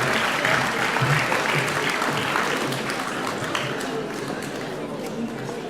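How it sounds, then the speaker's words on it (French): An indoor crowd at a Soustons sports awards evening applauds the French champion rowers of the Aviron Club Soustonnais, producing dense, sustained clapping that fades slightly toward the end under a voice. "Vous pouvez les applaudir."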